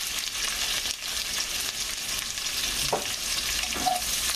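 Cumin and vegetables fry in a pan for a bread soup, giving a steady, close sizzle with a couple of brief clinks from stirring near the end.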